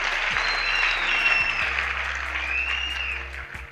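A crowd claps continuously and loudly throughout, a thick wash of applause with a steady low hum underneath.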